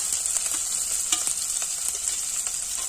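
Finely chopped onion fries in oil with cumin seeds already browned, a dense continuous sizzle close by, punctuated by scraping stirs of a spoon in the pan, no talking.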